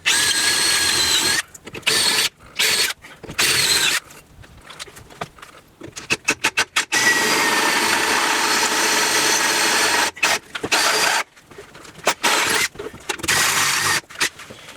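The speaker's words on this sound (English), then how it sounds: "So we'll drill these out and replace the riv nuts." A drill with a step bit bores out rivet nuts in a metal bracket, whining in repeated bursts of a few seconds that stop and start with short pauses between.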